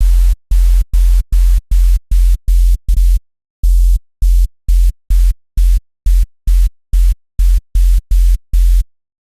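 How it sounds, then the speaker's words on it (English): Filtered white noise from a Serum 2 synthesizer plays as loud, evenly spaced bursts of hiss, each cut off sharply, with one longer gap partway through. "I'm happy with the white noise sound"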